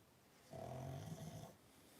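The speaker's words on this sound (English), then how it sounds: "And the pug is snoring." A pug dog gives a single drawn-out snore lasting about a second, a low nasal rumble with a buzzing tone, fairly close and quiet against a faint background.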